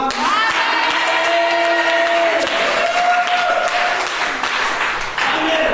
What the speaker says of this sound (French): est-ce que le peuple de Dieu peut acclamer?